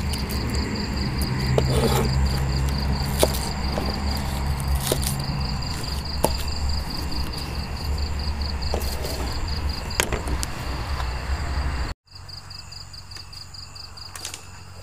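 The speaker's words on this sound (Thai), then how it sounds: "เราก็ได้ยินเสียงจิ้งหรีดนะครับ" Crickets chirp in a steady, high trill against a quiet rural outdoor background after rain, with occasional soft knocks, before the sound drops off sharply near the end.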